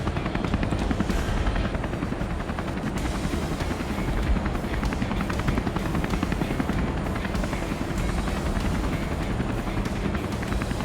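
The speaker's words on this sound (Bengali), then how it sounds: "আর হেলিকপ্টার চালানো মোটামুটি সহজই আছে।" A helicopter flying in the video game Off the Road 2, a loud, steady, close rotor and engine drone with a rapid chopping throb that holds unbroken throughout.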